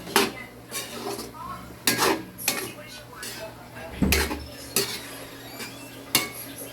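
Chicken liver and gizzard bopis being stirred with oyster sauce in a pan, metal utensil clanking and scraping against the pan in irregular knocks, with a faint sizzle underneath.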